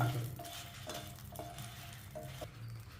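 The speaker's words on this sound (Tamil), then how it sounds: "மிளகாய் வந்து மொறுன்னு ஆகிற வரைக்கும் வறுக்கணும்" Chilies crisping in hot oil give a faint, steady sizzle, with a few light clinks and stirs of a utensil against the pan and no talking.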